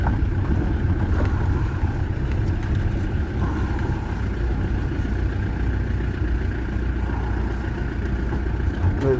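Peugeot 404 diesel engine pulling in first gear, a steady low rumble with a constant drone that runs without a break at close range inside the car.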